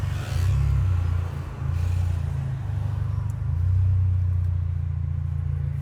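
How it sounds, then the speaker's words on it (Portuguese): A Volkswagen Golf GTI MK7 with a loud, open exhaust revs in a workshop, giving deep rumbling surges of throttle that rise and fall in a few pulses, close by and on its own. "E esse tá com escape berrando"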